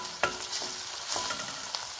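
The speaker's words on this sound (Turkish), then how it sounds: "Sarımsak da biraz kavuralım." Garlic sautéing in a pan with tomato paste and onion, a quiet sizzle punctuated by a few scraping stirs of the spoon.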